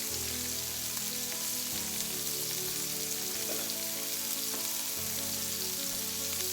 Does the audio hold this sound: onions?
yes